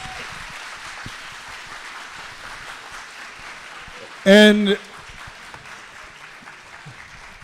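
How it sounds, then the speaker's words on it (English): Thin scattered clapping from a debate tour event audience in Seattle runs steadily underneath, while a brief loud voice cuts in midway. "Give David a round of applause."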